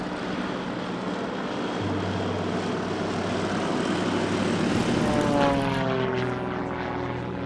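A PZL-104 Wilga propeller plane flies at an airshow, its engine a steady, fairly loud drone that rises and shifts in pitch as it passes, with no voices.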